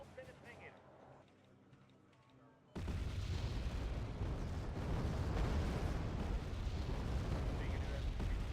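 Artillery fire in the war game Wargame: AirLand Battle sets off a sudden loud roar of blasts partway through, followed by a dense, continuous rumble of explosions that stays heavy until the end. Fainter game sounds come before it.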